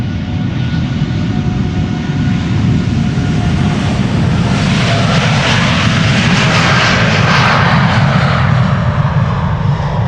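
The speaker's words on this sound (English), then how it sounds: "TUI to Bonaire. This is flight 391. 7878 Dreamliner, 9 years old." A nine-year-old TUI Boeing 787-8 Dreamliner departs Amsterdam Schiphol, a loud, sustained jet roar heard close by with no voices, building slightly in intensity midway through.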